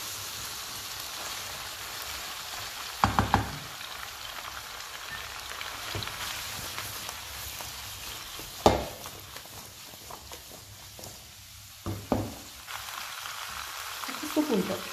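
Peppers, aubergine and other summer vegetables for peperonata sizzle steadily in a frying pan, a soft continuous crackle broken by a few scraping stirs, with no talking.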